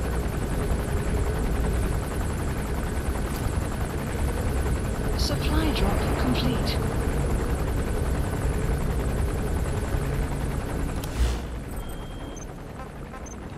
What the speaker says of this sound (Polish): Aż ten helikopter mi stąd poleci.